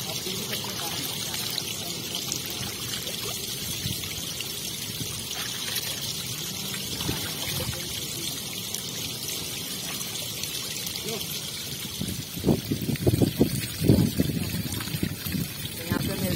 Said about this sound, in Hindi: ऊपर पूरा झरना है, एकदम प्योर पानी आ रहा है पहाड़ से, और पूरा नीचे जा रहा है।